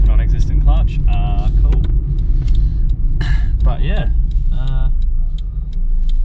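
Someone's car, after its fuel flap trouble, runs with a steady low engine rumble that continues throughout, while voices talk over it.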